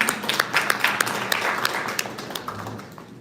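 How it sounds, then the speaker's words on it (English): Scattered, sparse clapping from a small group at a Brooklyn community town hall on healing, individual claps standing out before thinning away near the end. "We should give the applause back to you on that"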